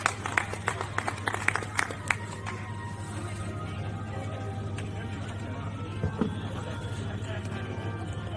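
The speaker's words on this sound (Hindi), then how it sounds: "आदरणीय अनिल किशोर शुक्ल निडर जी का आह्वान और जोरदार तालियां उनके स्वागत के लिए" Applause welcomes a poet onto the stage at a book fair poetry gathering. A few sharp, scattered claps come early, then fade into a steady low electrical hum, with voices present.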